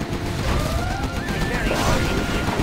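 Chain gun fire in the game C&C Zero Hour: dense, continuous rattling fire with battle noise, while unit voices call out over it.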